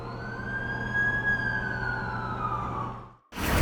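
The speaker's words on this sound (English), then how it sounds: "That's the ambulance I called." An ambulance siren in The Amazing Spider-Man 2 game wails in a long rising and falling sweep over steady low rumble, then cuts out abruptly before a burst of noise.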